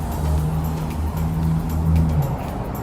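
Steady road traffic on a highway in Saipan, with cars rolling past close by in a continuous loud rumble and hiss of engines and tires, with no talk.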